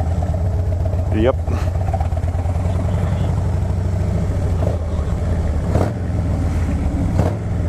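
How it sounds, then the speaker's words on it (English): Motorcycle engines idle and rumble at the Bikes, Blues and BBQ rally in 2019, a steady low drone with occasional revs, while people talk nearby. "there's a lot more bikes posting up now"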